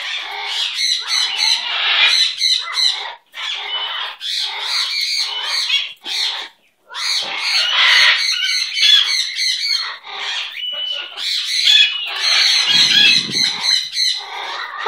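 A pet bird squawks loudly and close up in harsh, rapid, repeated bursts with brief pauses, continuing for many seconds with no talk.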